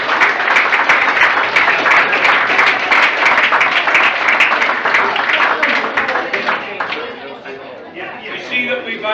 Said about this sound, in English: I think the parents deserve a round of applause.